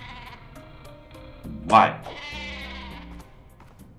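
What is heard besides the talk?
sheep weapon bleating in Worms Revolution video game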